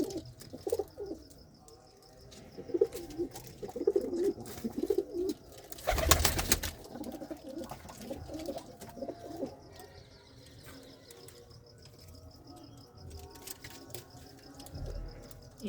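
Soft pigeon coos repeat at close range in a loft with newly hatched young, amid rustling and light tapping, with a brief loud burst of noise partway through.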